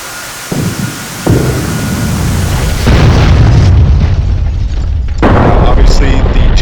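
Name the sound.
JDAM bomb explosions hitting buildings in a flight simulator video game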